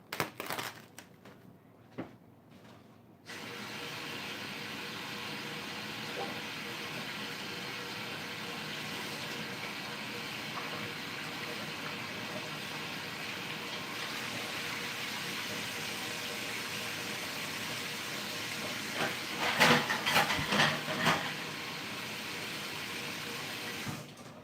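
Tap water runs steadily into a kitchen sink while meatballs are rinsed under it, a continuous close splashing flow that starts after a brief quiet moment and picks up some clattering handling near the end.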